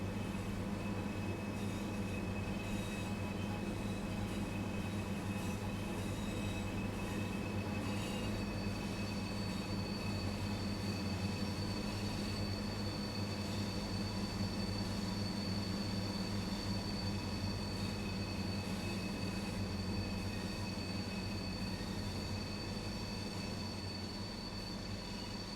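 A Pacer train grinds steadily uphill on the Bernina line in Train Sim World 4, held in first gear on the incline, with a continuous rumbling drone, wheel squeal and faint rhythmic clatter throughout.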